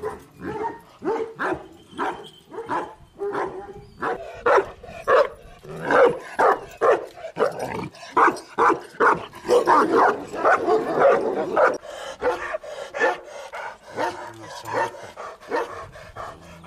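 A Kangal dog, a hardy Turkish livestock guardian breed, barks loudly and close in a long rapid series of deep woofs, with some yips and whimpering mixed in, in a cold winter setting.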